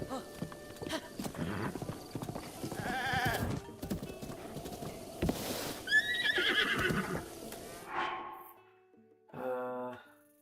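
Horse in Zelda: Breath of the Wild, with hoofbeats clip-clopping throughout and a couple of whinnies, the clearest neigh rising near the end over game ambience.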